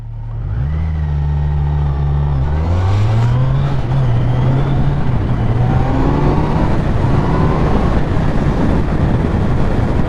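A 2021 Kawasaki Z900 motorcycle engine revs while riding during break-in, its pitch climbing through the gears in a loud, steady, close drone with wind rush, and no talking.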